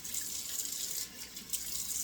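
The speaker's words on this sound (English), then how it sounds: "let me put a couple of splashes of cold water" Cold water runs from a bathroom sink tap and splashes steadily for about two seconds, a close, continuous hiss with slight surges and no voices.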